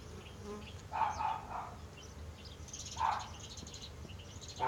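Honeybees buzz around an opened hive during a split, a steady close hum with a few louder swells as individual bees pass near, over a low outdoor background.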